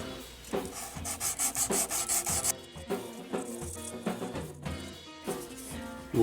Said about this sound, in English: Move on to some 1000 grit sandpaper.